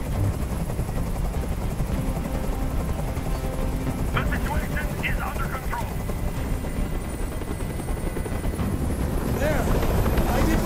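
A helicopter hovers steadily in the video game Detroit: Become Human, its loud, continuous rotor thrum filling the scene, with brief voices and sharp sounds heard under it.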